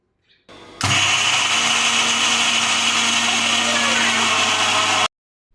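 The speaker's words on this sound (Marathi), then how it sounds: "आता हे मिक्सरला अजिबात पाणी न टाकता थोडंसं जाडसर दळून घेऊयात" A mixer grinder whirs loudly and steadily for about four seconds, coarsely grinding roasted spices without water, then cuts off abruptly.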